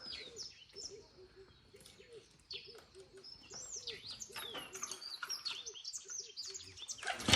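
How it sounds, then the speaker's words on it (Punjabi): Birds chirp and tweet outdoors in Africa at a moderate distance, with a dove's repeated low cooing underneath and a busier mix of calls toward the end. "ਇੱਕ ਵਾਰੀ ਆਪਾਂ ਇਹਨਾਂ ਪੰਛੀਆਂ ਦੀ ਆਵਾਜ਼ ਸੁਣਦੇ ਆ"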